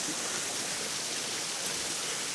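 Water rushing steadily around someone standing in the middle of a stream near icicles, a broad, even, close roar with no pauses.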